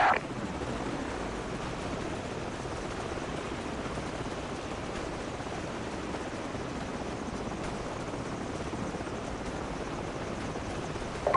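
Steady, continuous rotor and engine roar of an enemy helicopter in the video game Call of Duty 4: Modern Warfare (2007), constant in level throughout with no voices, like a loud chopper hovering nearby.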